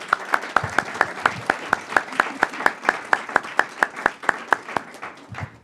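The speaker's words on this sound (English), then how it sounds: "Another round of applause." A steady round of applause fills a school board meeting, sounding like a modest group or a few people clapping in a regular, even rhythm, close and alone, for about five seconds.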